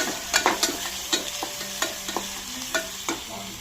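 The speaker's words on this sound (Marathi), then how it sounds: "आता ह्यामध्ये टोमॅटो ही टाकून देते, टोमॅटो ही छान परतून घेऊयात" Tomato sautés in a pan for a rice pulao, a soft steady sizzle broken by repeated sharp scrapes and taps of a stirring spoon, close up with no talking.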